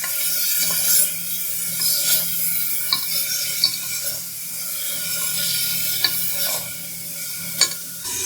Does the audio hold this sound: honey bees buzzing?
no